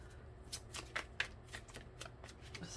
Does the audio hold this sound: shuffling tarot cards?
yes